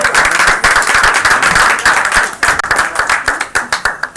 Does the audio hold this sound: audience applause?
yes